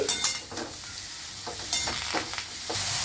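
Chopped cabbage is stirred in a dry kadai with no oil, giving a soft hiss and sizzle broken by scraping strokes of the spoon against the pan at an uneven pace.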